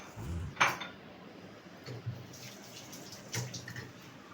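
Cooked beef pasanda being served out of a pot into a dish, with a few sharp metal-on-metal scrapes and clinks of a spoon against cookware over a faint watery background, close and fairly quiet.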